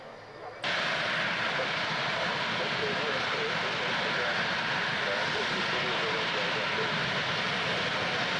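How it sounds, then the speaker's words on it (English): In a flight simulator game, an aircraft engine starts up abruptly and settles into a loud, steady roar as the plane taxis along the runway, with a voice talking in the background. "Taxiing down the runway now."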